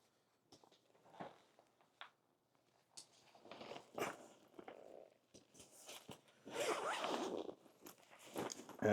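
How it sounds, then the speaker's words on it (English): Several short, scratchy zipper pulls run in bursts on the expansion zipper of a 45L laptop travel backpack, ending in a longer, louder continuous unzipping sound up close, with rustling handling noise between. "you can unzip it and it will expand"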